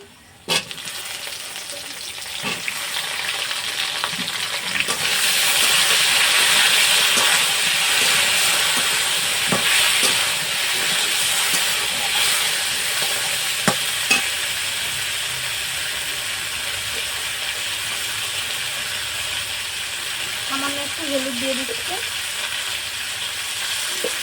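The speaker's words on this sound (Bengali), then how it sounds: "এবার আমি ভেন্ডিগুলো দিয়ে দেবো" Okra dropped into hot oil in a pan, a sudden loud sizzle that settles into a steady crackling hiss with occasional stirring clanks and a brief voice near the end.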